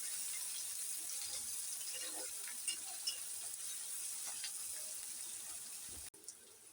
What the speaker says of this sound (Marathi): छान असं परतून घेते